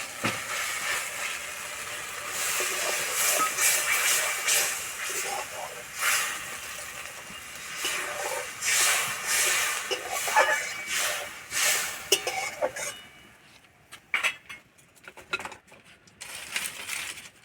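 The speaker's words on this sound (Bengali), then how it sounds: "মশলা কষানো হয়ে গেছে মশলা থেকে খুব সুন্দর গন্ধ ছেড়েছে এবার আমি জল দিয়ে দেবো" Water poured into fried spice paste in a pan for a Bengali masala bori curry, giving a loud, sustained sizzling hiss with crackling bursts that dies away into scattered pops near the end.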